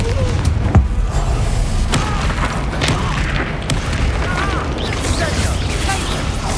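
A fiery Confringo explosion spell from the Hogwarts Legacy video game bursts with a loud boom amid ongoing combat clatter and thuds, while battle voices call out around it.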